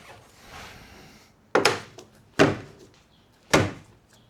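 A VW Mk5 Golf GTI bonnet is lowered and shut: three sharp metallic thuds about a second apart, close and loud, after a soft rustling start, with no talking.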